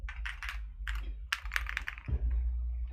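Dense foamless mechanical keyboard with a hotswap PCB being typed on, close and clear, with bursts of quick clacky keystrokes separated by short pauses and a low rumble underneath.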